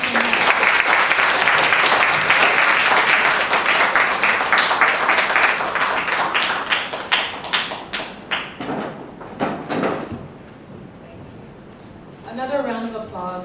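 Audience applause for poet Tina Chang after a conversation about poetry: loud, full clapping from a crowd that thins into scattered individual claps, then fades into quieter room sound and a brief voice near the end.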